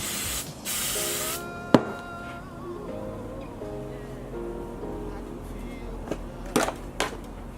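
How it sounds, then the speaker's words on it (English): Short hissing bursts of aerosol hairspray sprayed onto a wig, a few quick sprays spaced apart with faint clatter and background noise between them. "Going in with my spray."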